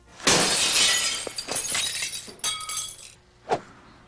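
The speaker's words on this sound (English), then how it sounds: "A window smashed right in the middle of it." A window shatters loudly on a golf club commercial set, a sharp burst of breaking glass followed by tinkling shards falling and a final clink a few seconds later, close and alone.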